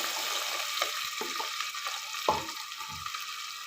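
Onions fry for biryani in a pan, a close, steady hiss of sizzling oil broken by a few utensil scrapes and stirs, with no talking.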